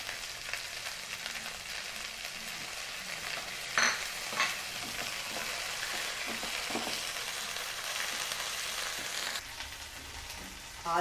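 Green chilies and ginger fry in a pan with a steady, crackling sizzle, punctuated by a few sharper spatters and stirring scrapes, close and moderately loud with no talking.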